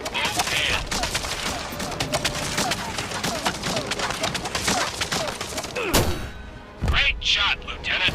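Panzerfaust blasts and gunfire hit a scout tank in the WWII video game Medal of Honor: Above and Beyond, with dense rapid shots followed by heavy booming impacts near the end and game voices mixed in.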